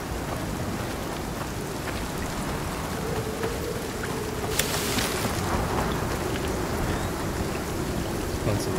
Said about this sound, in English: That's a bad storm.